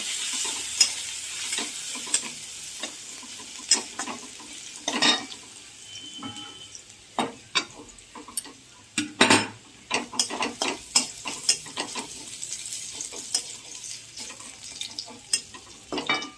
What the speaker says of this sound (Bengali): আগে রসুনটা একটু ভাজা ভাজা হয়ে যায়।